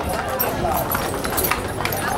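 Donkeys' hooves clip-clop along at a steady pace during a horseback cavalcade parade in Andradina, mixed with other outdoor noise and voices in the background.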